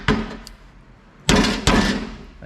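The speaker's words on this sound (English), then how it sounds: "if I can hammer it a little bit" Hammer blows on a broken Cub Cadet XT1 mower deck: a sharp metallic strike near the start, then two loud, close impacts about half a second apart with a ringing tail.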